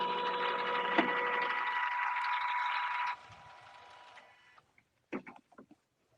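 Embroidery machine stitching a barn quilt edge design, a loud steady whirring stitch run that stops abruptly, followed by quiet and a few light clicks and clacks from the machine.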